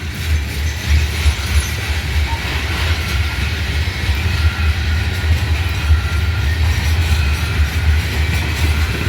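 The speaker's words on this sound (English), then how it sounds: "So I caught the pig train today." A BNSF intermodal pig train rolls steadily past up close, a loud continuous rumble of wheels and rail noise with faint clatter throughout and no voices.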